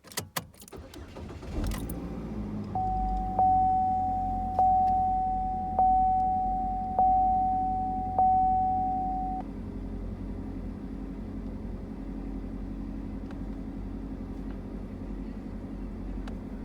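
A vehicle's ignition is switched on while a freshly plugged-in Progressive Snapshot device beeps; a clear steady tone repeats about six times at an even pace over a low engine hum, then the hum continues alone.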